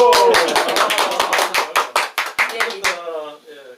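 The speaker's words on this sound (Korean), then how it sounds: "박수! 박수!" People at a small concert held at a rural country home clap in a quick, rhythmic burst of sharp, close claps, with voices calling out over them before the clapping stops and a voice continues briefly.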